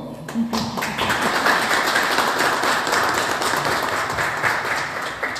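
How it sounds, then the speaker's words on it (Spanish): An audience at a conference gives applause for a newly introduced speaker, a dense, steady wash of many hands clapping that holds for several seconds, with some voices underneath. "así que un aplauso para ella, por favor"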